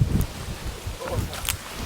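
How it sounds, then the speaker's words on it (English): Wind buffeting a microphone beside a big river on a sturgeon fishing trip, low rumbling gusts throughout with faint water and brief distant sounds over it. "I hope that you guys can hear me and not the wind."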